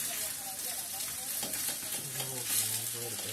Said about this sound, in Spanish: le echamos los pimientos y los ajitos. Y ya nada, nos damos unas vueltas.